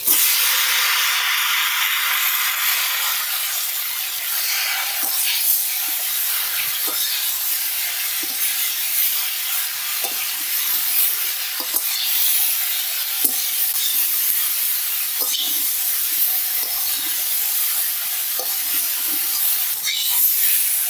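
Chalta (elephant apple) pieces with a little turmeric frying over low heat in a pan, giving a steady broad sizzle and hiss throughout with occasional faint clicks of stirring.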